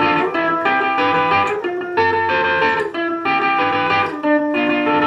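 Distorted electric guitar riff played at full speed, a loud continuous stream of fast picked notes repeating in phrases, with no talking.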